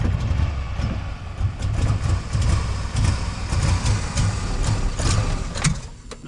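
An old Chevrolet 210 car engine idles with a steady, low rumbling throb and an uneven, slightly lumpy pulse. It runs close by and continuously, with no voices.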